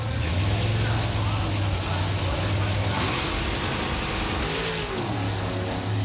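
A Chevrolet Camaro drag car launches off the starting line at a drag strip, engine roaring loud and rising in pitch as it pulls away, with an announcer talking over it.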